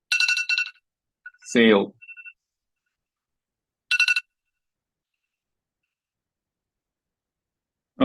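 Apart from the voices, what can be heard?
phone alarm going off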